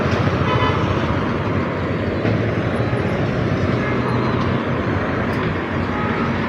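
Dense traffic fills a crowded market street on market day, a continuous loud rumble of vehicles with occasional horn toots mixed into the steady din.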